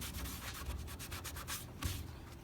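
Wood glue is wiped off a fresh glue-up with a cloth in quick back-and-forth rubbing strokes, a soft continuous scuffing heard close and faint, with no talk.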